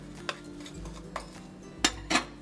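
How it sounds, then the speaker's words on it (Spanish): Spoon scraping and clinking in a bowl while chopped cod is mixed with spring onion and parsley, a few sharp taps spaced irregularly over soft background noise. "Removemos bien para que se integren todos los ingredientes"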